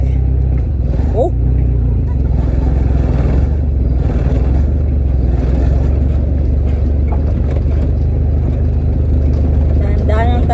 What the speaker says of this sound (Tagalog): Pagpasensyahan nyo na yung ingay ng sasakyan.